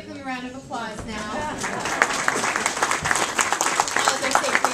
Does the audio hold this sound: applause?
yes